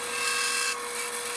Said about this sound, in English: Now I'll drill a 5/16 hole on the crosshairs near the corners.